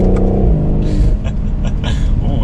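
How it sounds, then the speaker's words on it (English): A 2020 BMW M760i sedan with a V12 engine accelerating hard, heard as a loud, deep, continuous rumbling drone from inside the cabin, with faint crackles in the exhaust note. "we had a little bit of a pop on that exhaust"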